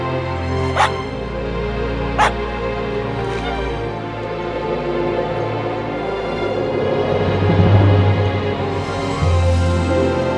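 A dog named Roxy yips and whimpers excitedly during a game of fetch with a stick, a couple of sharp barks early on over a steady background hum, with eager whining building toward the end.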